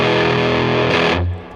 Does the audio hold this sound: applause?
no